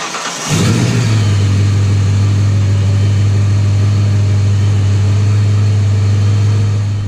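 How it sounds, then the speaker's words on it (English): A 1993 Ford Mustang Cobra engine, just washed, cranks briefly and catches, then settles into a loud, steady, deep idle that runs without a break, close up and with no talking. "what I like to do next is just start the car for a second"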